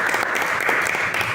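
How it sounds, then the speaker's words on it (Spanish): Audience applause at a labour tutors' diploma course session, dense continuous clapping filling the whole brief moment at a steady, fairly loud level. "le pedimos un aplauso"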